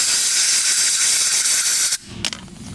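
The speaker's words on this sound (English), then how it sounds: "And then taking my blowgun." A compressed-air blowgun blasts a loud, steady hiss up close while blowing out cleaned threads, then cuts off sharply, followed by a brief short puff.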